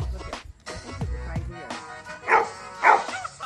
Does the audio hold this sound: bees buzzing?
no